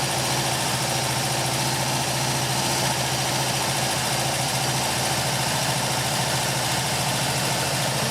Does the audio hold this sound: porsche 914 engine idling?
yes